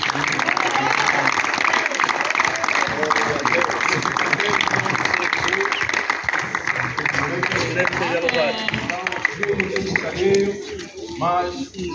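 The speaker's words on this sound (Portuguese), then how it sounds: "Palmas para o Senhor." A church congregation claps steadily and loudly throughout, with a murmur of voices mixed in and the applause tapering slightly near the end.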